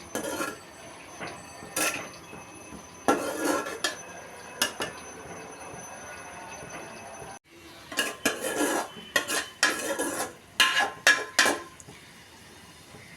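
Red amaranth greens being stirred in a pan with green chilies and salt, a utensil scraping and clinking against metal in irregular bursts, separated by quieter pauses, with no talking.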